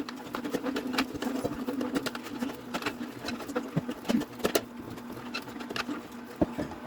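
A Nama Vitality 5800 cold press juicer grinds kale and apple, with a steady mechanical whir and a stream of crackling, popping crunches that run throughout at close range.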